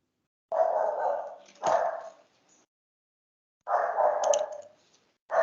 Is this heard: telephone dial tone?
no